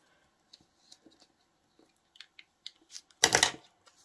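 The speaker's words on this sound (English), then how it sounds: "So I'm going to take this and we're going to rip aside here" A magazine page is torn by hand, with faint rustles and handling crinkles building to a short, loud rip near the end.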